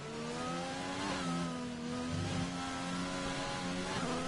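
A McLaren race car engine revs in a racing video game during an online league race in Russia, a steady, close, sustained whine with pitch rising and dropping through gear changes, heard alone.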